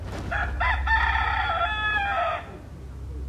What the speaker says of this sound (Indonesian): Tadi nggak ada suara ayam, begitu kami berdialog, ayamnya nggak berhenti